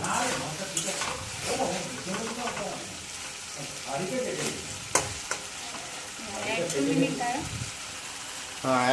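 Food being stir-fried (kosha) in a pan in a home kitchen, with a continuous sizzle, scraping stirs and occasional clinks of a utensil against the pan, while someone talks over it.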